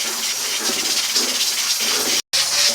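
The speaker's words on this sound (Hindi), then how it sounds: "जब प्रेशर कुकर की आवाज़ बंद हो जाएगी" Steady loud steam hiss from a pressure cooker cooking chana daal, broad and continuous with a slight pulsing, cut by a brief silent gap near the end before resuming.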